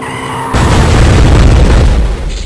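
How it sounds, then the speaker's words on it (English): A nuclear bomb detonates in the first level of the video game Shadow Warrior, a sudden massive boom that swells into a loud, sustained roaring rumble filling the low end before easing slightly. "there's a nuclear bomb in the very first level"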